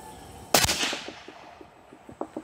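A single loud, sharp rifle shot from a CVA Cascade .22-caliber rifle with a 22-inch barrel, firing 55-grain loads outdoors, followed by a rolling echo and faint reverberating rumbles that fade over the next two seconds.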